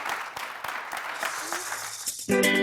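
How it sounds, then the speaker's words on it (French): Audience clapping for a singer at a New Year 2019 television show, a brief scattered burst of applause that cuts off abruptly into loud music. "Applaudissements pour lui s'il vous plaît"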